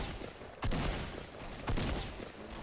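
Fortnite gunfire comes in two short bursts of rapid shots about a second apart, loud and close, with no talking over it.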